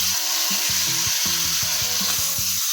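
Eggplant burji sizzles steadily in a hot tava with turmeric, a bright continuous frying hiss under repeated rhythmic scraping and stirring knocks of a utensil against the pan, close and fairly loud.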